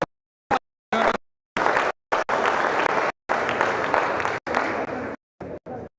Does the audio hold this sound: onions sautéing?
no